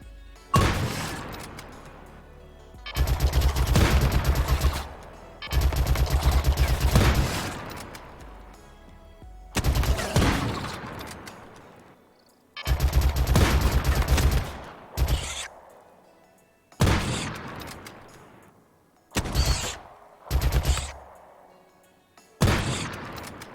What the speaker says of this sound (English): those turrets did some work right there